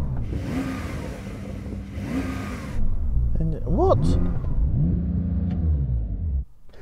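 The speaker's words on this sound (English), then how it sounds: "Put your car into Sports Plus mode so it's nice and loud. Make sure that your exhaust flaps are open." Porsche sports car engine set to Sport Plus mode with exhaust flaps open, giving short revving bursts over a rumbling idle, with people talking close by throughout.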